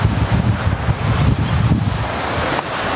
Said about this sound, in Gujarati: જો વોટરફોલ